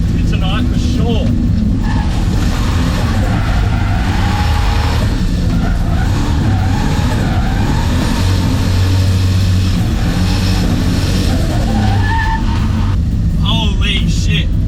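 A turbocharged Ecotec-engined VS Commodore drifts with a misfiring engine, loud and close, the engine roaring and stuttering with tyre squeal layered over it, while a voice talks over the noise.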